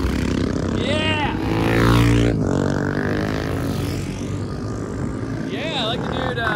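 Supermoto motorcycles sweeping past a corner on a sunny track, engines rising and falling in pitch as they pass close by one after another, with someone talking over the riding.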